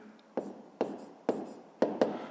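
Pen strokes write by hand on paper, five short scratchy marks in an uneven rhythm, each starting with a sharp tap and trailing into a soft rub, close and quiet.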